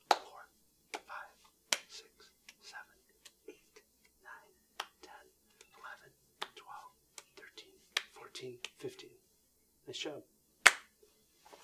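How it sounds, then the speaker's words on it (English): Children's rhythmic hand claps during a yoga session for kids with autism, a series of sharp, spaced single claps at close range with soft speaking between them, including a brief counted phrase and praise. "let's do our claps"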